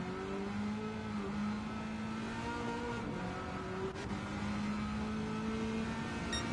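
A racing car engine in a racing video game revs high and steady, with a constant whining drone whose pitch shifts slightly through gear changes, heard at moderate level without any talking.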